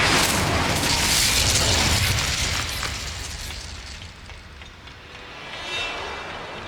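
A Confringo fire spell explosion in Hogwarts Legacy: a loud, broad booming burst that rumbles, then slowly fades into a crackling tail with a smaller swell near the end.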